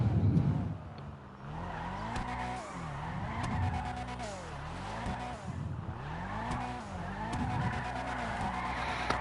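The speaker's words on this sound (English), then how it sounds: "what I want to do is drift, come in, do a circle" Tires skid and squeal as a Nissan Sylvia drifts through tight circles on a street in GTA Online, the engine note rising and falling in repeated wavering sweeps. Loud, continuous and close, with no voices over it.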